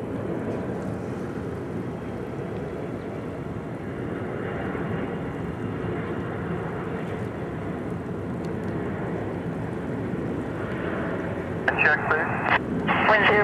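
A heavy Boeing 777 airliner on short final to runway 28 Left at San Francisco airport, a steady broadband roar of jet engines and wind under radio chatter, swelling slightly louder near the end.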